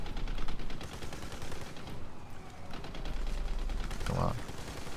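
Rapid bursts of video-game gunfire from Army of Two: The Devil's Cartel rattle almost continuously and fairly loudly, with a player's voice talking over the shooting.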